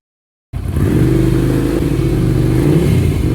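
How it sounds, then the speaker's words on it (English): Ducati Scrambler 800 motorcycle pulling away slowly in first gear, its engine bursting in abruptly and holding a loud, steady, close rumble with a slightly rising pitch and a faint mechanical clatter, no voices. "Enter first gear. Accelerate slowly."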